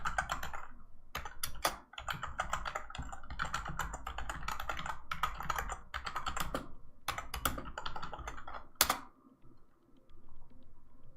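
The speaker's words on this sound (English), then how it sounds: "I'm going to type it into the chat so everybody has a reference" Rapid clicking keystrokes of a computer keyboard as a command is typed, dense irregular bursts with brief pauses and a few heavier key presses, close and fairly quiet, with no voices.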